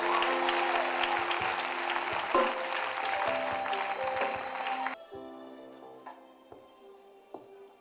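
Church audience applauding at a gospel concert, a dense sustained wave of clapping that cuts off abruptly partway through, leaving sparse scattered claps over a lingering musical tone.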